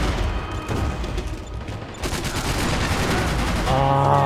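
Dense, continuous gunfire from a Max Payne 3 multiplayer match on PC, rapid automatic shots blending into a sustained loud barrage with game sounds mixed in.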